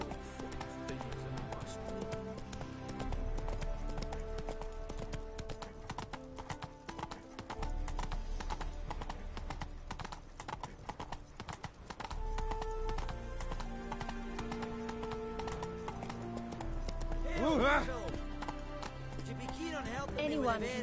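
A horse gallops in The Witcher 3: Wild Hunt, giving steady rhythmic clip-clop hoofbeats with a brief neigh near the end, while music plays in the game and voices speak over it.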